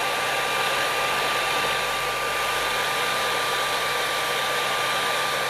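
A hair dryer blows at a flickering screen, making a constant loud rushing whoosh with a thin steady whine throughout and no other sounds.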